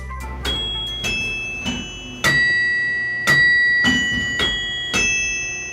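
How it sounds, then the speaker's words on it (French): Carillon bells strike a slow pre-recorded tune of ringing notes, each clang decaying into the next, about eight strokes forming a simple melody against a low background hum. "Le carillon joue alors une ritournelle préenregistrée"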